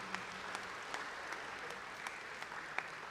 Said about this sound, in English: So I'd like to give a round of applause one more time for Rick Keene.